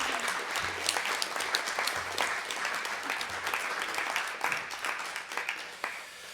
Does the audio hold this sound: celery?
no